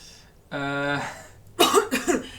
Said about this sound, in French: Je tousse, je m'évente le visage.